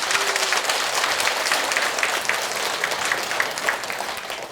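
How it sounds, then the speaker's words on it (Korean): A lecture audience at a Buddhist temple claps together in a dense, sustained round of applause that holds steady and tapers slightly toward the end. "박수 한번 치세요. 박수."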